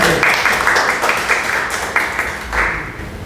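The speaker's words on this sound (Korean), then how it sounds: "그래도 박수 한번 좀 쳐주시면 좋겠습니다" Audience applause at a public interfaith civic hearing in a meeting hall, a steady patter of many hands clapping for about three seconds with a slight swell near the end.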